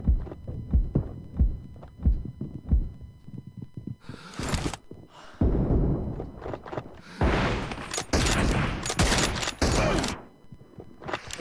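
Bursts of M24 rifle fire and other gunfire in a BGMI team deathmatch, loud rapid volleys in the second half after sparser shots and footsteps, with game callouts.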